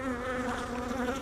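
Honeybees buzzing around an open hive during a spring colony inspection, a dense steady drone of many wings close by, continuous and fairly loud with no talking.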